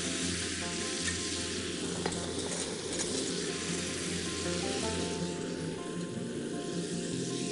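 Barbecue ingredients frying in a pan and being stirred, a steady close sizzle with scraping utensil strokes throughout, no talking.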